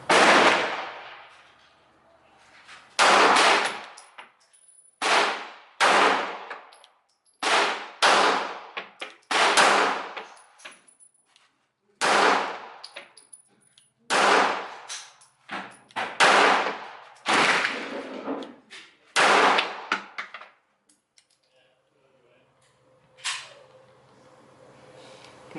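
A handgun fitted with a red dot sight fires a long string of sharp, loud gunshots, single and in quick pairs, each ringing briefly before fading, with short pauses between volleys and no talking.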